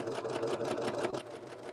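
An electric sewing machine running steadily to stitch gathers into a skirt, a fast continuous whirring buzz of the needle mechanism, close and alone.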